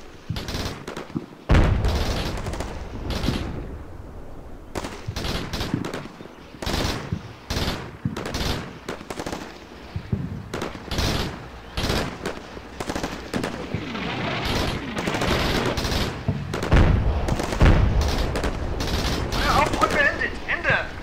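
Artillery and gunfire in the Combat Mission Shock Force game erupt in repeated sharp bursts and heavy booms, machine-gun rattles mixing with explosions in an irregular, intensifying barrage, with a voice speaking intermittently.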